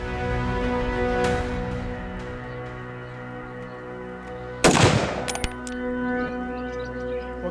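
A single sharp, loud gunshot cracks at a military firing range in a Pakistani army drama, set against sustained background music tones and a few light clinks after it.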